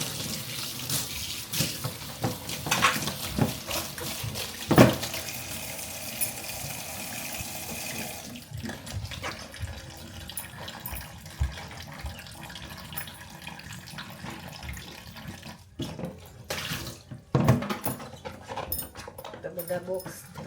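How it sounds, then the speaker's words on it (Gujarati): Ice cube trays being washed under a running tap, water splashing continuously into a sink with handling clatter and a few sharp knocks; a dog barks and a voice talks over parts of it. "તો આપણે ટ્રેને પહેલાં ધોઈ નાખીએ સાફ પાણીથી."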